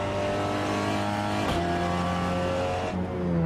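A Peugeot 308 RCZ racing cup car circles the Tsukuba circuit, its engine holding a loud, steady sustained drone with a sharp shift or blip halfway through, recorded up close from onboard.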